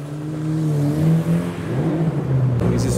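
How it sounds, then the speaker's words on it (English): Nissan Skyline R33 engine pulling away from a night car meet, a steady loud rumble with rising revs and a brief throttle swell, close by and with no talk over it. "We have this R33, which sounds amazing."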